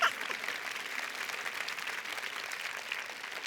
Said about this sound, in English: you can go ahead and clap.